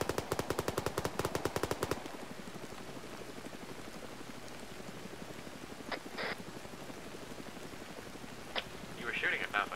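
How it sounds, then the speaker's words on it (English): Rapid automatic gunfire in the Arma 3 video game during a woodland night operation, a loud evenly spaced burst lasting about two seconds, followed by quieter ambient noise and scattered faint pops. "You were shooting at nothing."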